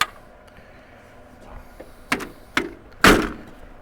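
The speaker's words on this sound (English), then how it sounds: "Door shuts nice." A 1937 Ford Club Coupe's all-steel car door shuts with a solid thunk near the end, preceded by a couple of softer clicks and handle knocks; no talking.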